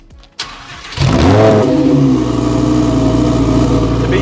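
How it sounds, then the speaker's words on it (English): A car engine cranks briefly and fires into a loud, close idle that holds steady, with no voices over it. "Let's do a quick cold start."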